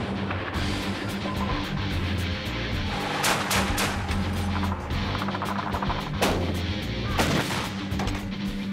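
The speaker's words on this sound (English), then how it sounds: "Forward air controllers call in a strike by F-18s. 500-pound bombs crash into their targets." 500-pound bombs dropped by F-18s explode on targets in a military strike: a continuous rumbling barrage with several sharp blasts and cracks rising above it at intervals.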